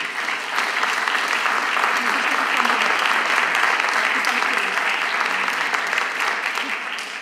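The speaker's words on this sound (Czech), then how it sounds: "A to si žádá potlesk." A seated audience at a discussion event bursts into sustained, dense applause that stays steady and loud for the whole stretch before tapering slightly at the end.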